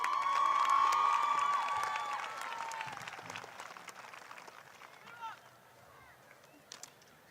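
A graduation crowd at Dickson County High School breaks into loud applause and cheering for the class of 2022 gold, silver and bronze medalists, swelling at first then thinning to scattered claps and whoops.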